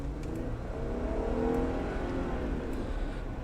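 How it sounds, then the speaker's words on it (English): A Jeep Wrangler Overland's V6 engine revs up hard as the car accelerates, a smooth rising whine with strong low rumble, loud and close. "The V6 just revs hard and it revs loudly"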